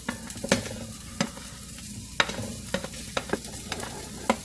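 Diced onions and mushrooms sizzle in a pot while a utensil stirs them, giving a soft frying hiss broken by sharp, irregular scrapes and taps at close range, with no voices.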